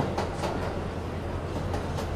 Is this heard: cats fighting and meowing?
no